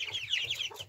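A bantam hen clucks softly with a run of quick, warbling calls, fairly close and quiet against faint low background hum.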